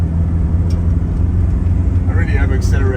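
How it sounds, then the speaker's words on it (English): Engine of a 44 kW Mercedes car pulling away and building speed, a steady close low rumble with road noise throughout, while a voice talks over it in the last second. "I'll pull away as in getting up to speed"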